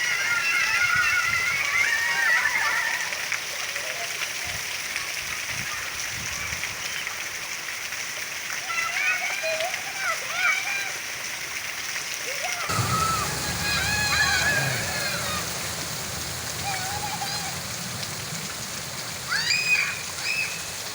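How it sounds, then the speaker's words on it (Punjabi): Children splash and play in heavy rain on flooded village roads, water sloshing and splattering steadily throughout with a distant broad wash of rainfall and faint voices in the background. "ਨਿਆਣੇ ਮੀਂਹ 'ਚ ਨਹਾ ਰਹੇ ਨੇ"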